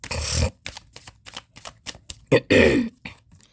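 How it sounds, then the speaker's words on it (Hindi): Tarot cards being shuffled by hand during a reading, a close burst of papery riffling and slaps, then several short quick flicks and a second longer riffle before the cards settle. "Last shuffle."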